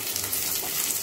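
Nalleru stalks frying in a pan, a steady close sizzle and crackle of hot oil with no talking.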